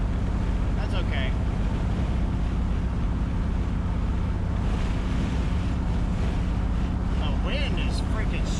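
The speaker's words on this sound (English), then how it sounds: "The wind is freaking strong today." Strong wind roars steadily and loudly across an outdoor microphone beside an LS-swapped Chevy S10 on a hot Southern summer day, a constant buffeting rush with no letup.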